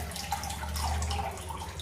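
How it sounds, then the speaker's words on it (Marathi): Water pours steadily into a vessel of strained cream while ghee is being made, a short continuous splashing trickle heard close up without talk. "आता याच्यात थोडंसं पुन्हा मी पाणी ओतून घेते."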